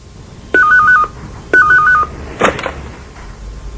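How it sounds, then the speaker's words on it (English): A telephone number dialed on a keypad for a business call, two quick runs of short bright tones about a second apart, followed by a faint click and a short burst of noise in a quiet room. "Jim Carrington calls a client, Steve Feldman."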